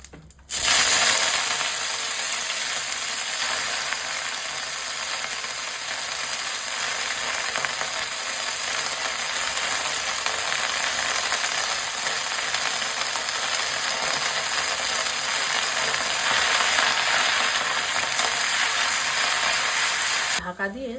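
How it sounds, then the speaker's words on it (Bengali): Punko greens frying with salt in hot oil, a dense, steady, loud sizzle that starts abruptly and holds evenly for about twenty seconds before cutting off; no voices. "পুনকু শাকটা একটু নুন দিয়ে ভেজে নেব।"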